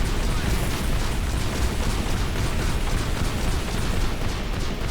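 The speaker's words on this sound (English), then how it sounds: "Oh, that's major artillery." Heavy artillery explosions in the video game Eximius: Seize the Frontline form a dense, loud, continuous rumbling roar with layered blasts and no clear gaps.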